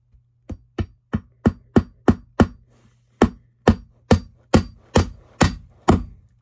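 About fourteen sharp hammer blows drive a nail into a wooden chair frame, close and evenly paced, with a short pause partway through and a faint steady hum underneath.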